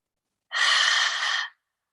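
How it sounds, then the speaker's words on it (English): A long, deep exhale during a Hatha yoga session, a single breath lasting about a second, close and clear with no talking over it. "And I'm breathing."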